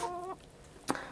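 Black backyard hens cluck nearby, a short rising harmonic call followed by a brief sharp squawk, with no talking.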